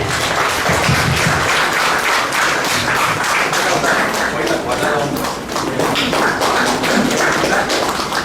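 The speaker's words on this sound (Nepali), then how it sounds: "So हामी सबैजना ताली बजाउनेछौँ है" An audience at a ministry school's graduation ceremony claps continuously, a loud dense wash of applause throughout with a voice speaking underneath.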